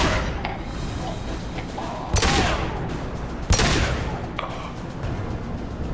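Pistol shots in Mass Effect 2: two sharp, loud single reports stand out over steady combat background noise, with a few fainter distant pops around them.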